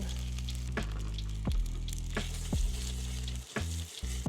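Pierogies frying in a pan inside a camper kitchen, a loud continuous sizzle close up, broken by several scraping knocks of a utensil turning them.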